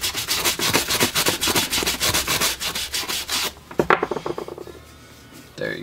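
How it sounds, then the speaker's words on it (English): A stiff bristle brush scrubs back and forth across suede to re-nap it, making a fast run of rhythmic, close scratchy strokes that stop partway through, followed by a few softer brushes. "Let's try the stiff bristle."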